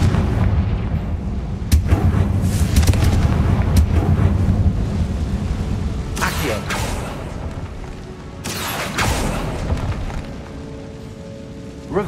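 Fiery blasting spell cast in the video game Hogwarts Legacy, a run of loud booming explosions with crackling bursts over a dense, rumbling game soundscape, several sharp broadband blasts spaced a few seconds apart.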